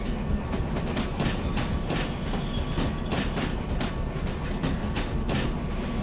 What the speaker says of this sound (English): train seems to really be slowing down today for some reason